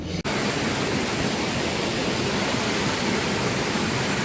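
Water rushing off a hill at a pole-building construction site, a loud, steady broadband roar that begins abruptly and continues evenly without pause, with no voices.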